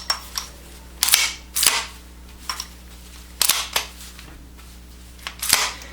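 A modern Colt 1911 rail pistol with a Series 80 firing pin block is handled up close, producing a series of crisp, sharp metallic clicks and slide snaps spaced irregularly against a quiet background.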